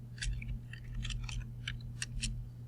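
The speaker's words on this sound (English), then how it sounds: "and I'm going to type in" Keyboard keys tapped in short irregular clicks, about a dozen distinct strokes in quick bursts, close and fairly quiet over a steady low electrical hum, with no talking.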